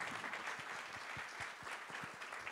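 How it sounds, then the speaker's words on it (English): Faint, distant-sounding applause at the Riga Digital Forum 2018 rises for the Othvrs, a soft continuous patter of many hands at low level throughout. "Let's give a round of applause for the Othvrs."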